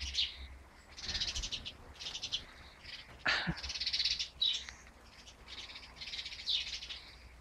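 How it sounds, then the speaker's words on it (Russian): Several birds chirp and trill in repeated bursts over a soft, steady hiss of rain, moderately near, with no talking. "они, оказывается, в дождь птиц тоже поют"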